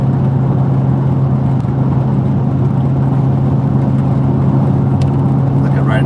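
A car driving fast on Highway 101 near San Jose, heard from inside as a loud constant engine drone and tire roar with wind noise, steady and unbroken.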